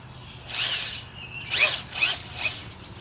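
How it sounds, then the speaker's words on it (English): An inexpensive Harbor Freight electric drill motor gives several short bursts, whirring up and down in quick spurts with brief pauses between. "this is just an inexpensive drill motor from Harbor Freight."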